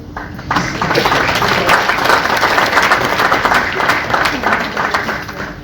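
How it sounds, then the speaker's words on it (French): Loud, sustained audience applause at a festive gathering, dense clapping that starts abruptly and holds steady throughout with crowd murmur beneath. "applaudissez."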